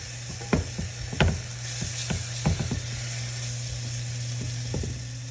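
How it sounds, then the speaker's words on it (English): Vegetables coated in a warm, smoky spice blend sizzle in a pan, a steady hiss broken by a few sharp scraping stirs near the start and middle, with no voices. "Give this a good stir and let this cook for another minute or 2."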